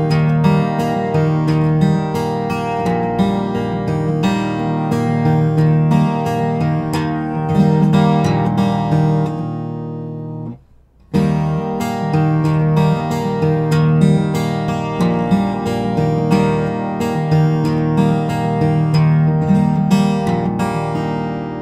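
Slide guitar pattern played on open strings from a song, a steady, dense run of plucked, gliding notes that drops out briefly near the middle before resuming at full level, with no talking.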